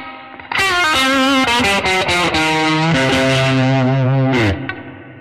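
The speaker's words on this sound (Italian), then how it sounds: "il riverbero è decisamente maggiore" A guitar runs through a pedalboard with a thick, distorted, effects-laden tone, sustaining loud notes that ring out with a long reverb tail before fading.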